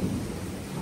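Low rumbling thunder rolls steadily beneath rain during a summer downpour at a house, a continuous moderately loud wash with no voices.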